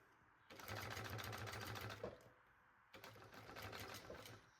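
A sewing machine stitches a baby backpack in two bursts of rapid, even, close running, with a short pause between them.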